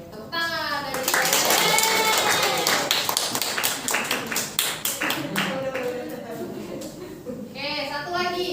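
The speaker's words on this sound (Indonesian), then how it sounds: "tepuk tangan dari saya" A group claps briskly in a burst of applause, loud and close, with children's voices chattering before and after.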